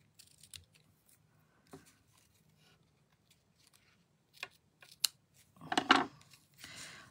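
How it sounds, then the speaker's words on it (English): Ribbon scissors snip through craft ribbon in a few crisp, close cuts, with quieter handling rustles between them and a final burst of snipping near the end. "And then I need to get my ribbon scissors. And we'll just cut that."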